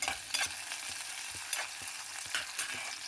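Onions, green chilies and tomatoes fry in a hot pan with a steady sizzle, broken by repeated scraping stir strokes; close and loud, with no talking.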